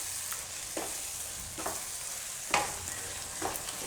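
Palak paneer bhurji, a spinach and paneer scramble, gets stirred in a sizzling pan, with a steady fry hiss and regular scraping strokes of the spoon about once a second.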